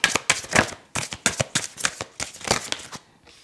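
Playing cards drawn and dealt at a table in a French card game, a quick run of crisp papery snaps and flicks in uneven bursts, close and fairly loud, with a brief voice underneath.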